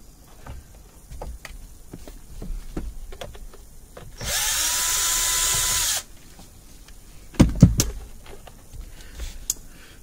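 A power drill with a long Phillips bit backing out screws on a Honda CR-V, one steady whirring burst of about two seconds, surrounded by scattered clicks and handling knocks.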